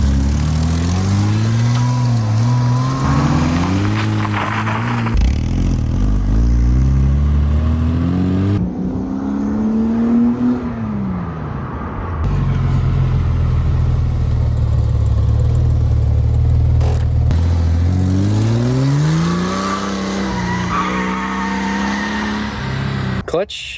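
A Porsche Boxster 986, just fitted with a new clutch, drives on the road with its engine loud and close, revving up through the gears in rising sweeps, easing off between shifts, then climbing again.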